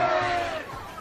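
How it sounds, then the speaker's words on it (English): Loud crowd noise in a stadium at a women's soccer state cup final, a dense roar of cheering and shouting voices building briefly. "Crowd starting to become a factor too now. They're getting loud."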